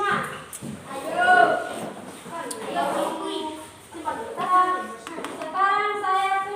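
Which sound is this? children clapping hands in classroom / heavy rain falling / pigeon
children clapping hands in classroom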